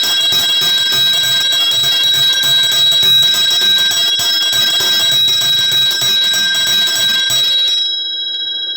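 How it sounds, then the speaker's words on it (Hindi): A hand bell ringing continuously and loudly, a bright metallic jangle with sustained ringing overtones that stops abruptly near the end, leaving a brief fading resonance. "ये है घंटी। और घंटी जब बजती है तो इसकी आवाज़ कैसी होती है?"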